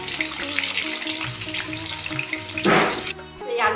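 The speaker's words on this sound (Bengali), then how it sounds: "সবার প্রথমে আমি আলুটাকে ভেজে নেব।" Potatoes fry in hot oil with a bubbling sizzle under tonal background music; a sharper burst of frying noise flares up near the end.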